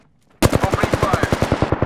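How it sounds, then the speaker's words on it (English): Automatic weapon fire in the video game Apex Legends erupts suddenly after a brief quiet, a loud, fast run of evenly spaced shots that keeps going to the end. "Opening fire."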